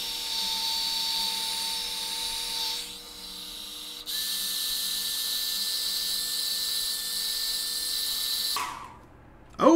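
A hairdryer heating model decal labels blows steadily with a whining motor hum, shifting pitch partway through, then cuts off near the end followed by a short clatter.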